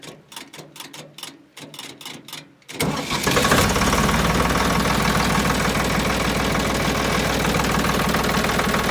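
A 1970s Ford 3400 diesel tractor with starting trouble cranks in a series of rhythmic starter chugs, then catches and settles into a loud, steady, clattering diesel idle, close up with no talking.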